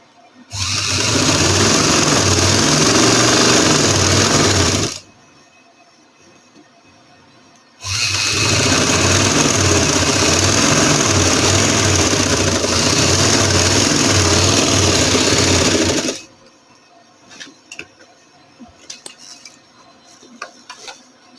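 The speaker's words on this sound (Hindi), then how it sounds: "इस तरह किनारे पे सिलाई लगा के" A sewing machine stitches the edge of summer trousers in two long, steady, loud runs of rapid whirring, separated by a pause, followed by soft handling noises.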